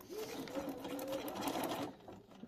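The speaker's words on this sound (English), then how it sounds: "I'm going to start sewing" A sewing machine stitching quilt fabric runs in one continuous close whirring burst of about two seconds, then stops, with no talking.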